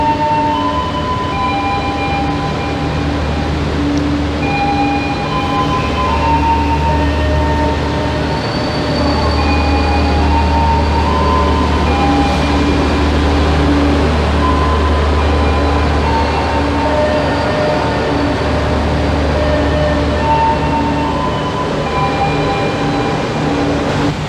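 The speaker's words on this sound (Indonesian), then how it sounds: "Kereta api ekonomi lokal tujuan Cepu meninggalkan stasiun" A local economy train bound for Cepu pulls out of Surabaya Pasar Turi station, a continuous loud rumble with steady low drone and tonal hum heard from on board, no talking.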